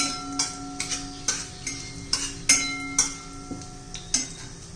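Spices being sautéed in a pan for tomato chutney, with a spoon scraping and clicking against the pan in steady strokes over a soft, continuous sizzle, close up and without talk.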